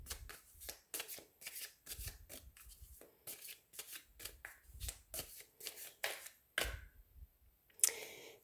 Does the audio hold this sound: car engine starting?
no